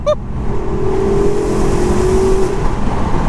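Engine and exhaust of a 2015 Porsche Panamera Turbo S on the move, a steady, loud drone with a sustained tonal whine running through it for about three seconds, with no talking.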